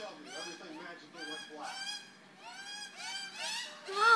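Baby birds in a nest keep up a continuous chorus of shrill, harsh, honking cries, several overlapping in bursts and growing louder toward the end, fairly close with no talk.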